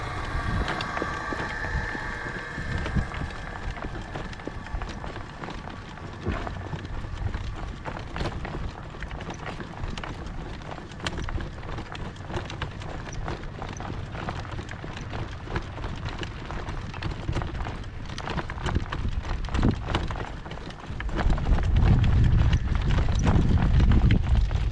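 Horses' hooves clip-clop steadily through gale-force wind on a trail ride, the rhythmic hoofbeats mixed with strong gusty rumble that swells louder near the end.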